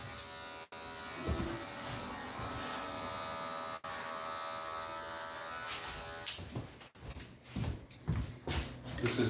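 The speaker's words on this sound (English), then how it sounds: "This is the Wall Magic Clip, one of my favorites, and then the Andis Slimline Pro, standard amongst stylists and barbers all over the world." A Wahl Magic Clip and an Andis Slimline Pro trim a beard, their steady close electric buzz running continuously, broken by brief pauses, then choppier passes as the clipper moves.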